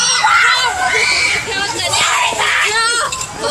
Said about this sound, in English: there is a ton of screaming going on